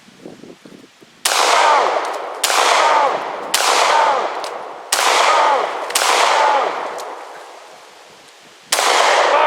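Guns from 9mm and .454 handguns to a 12-gauge, 5.56mm and .50 caliber fire at concrete blocks in a ballistic test, six loud, sharp reports spaced about a second apart, each ringing out with a long echoing decay outdoors.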